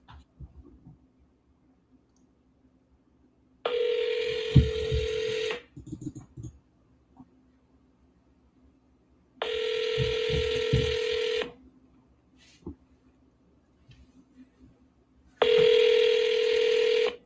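A phone call placed to a real estate agent rings out in three long ringback tones separated by silent pauses, each tone steady and fairly loud. Faint clicks sound between the rings, with no talking.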